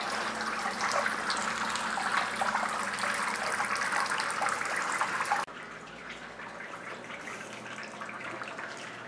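Water running steadily over grain during the sparge for a home-brewed NE IPA, a continuous close splashing flow that drops abruptly to a softer stream partway through.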